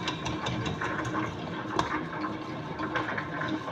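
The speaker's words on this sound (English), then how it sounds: "I'm going to knead it, or the machine is going to knead it for 20 minutes." A dough machine kneads bread dough, giving a continuous mechanical whirr and churn with faint regular clicks, moderately loud and steady throughout, with no talking.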